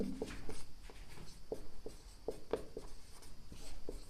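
Chalk or marker writing on a board during a physics lesson, a series of short sharp taps and scratches in an irregular rhythm, fairly quiet and close.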